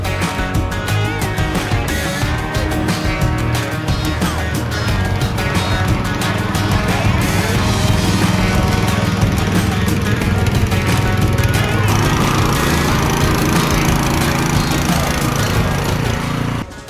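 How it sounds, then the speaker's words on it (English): A Honda-powered Truyard RT450 rear tine rotary tiller runs steadily and loudly at close range, its engine drone constant with a dense mechanical rattle throughout, cutting off abruptly at the end. "a serious rear tine rotary tiller with commercial grade Honda reliability and outstanding digging performance"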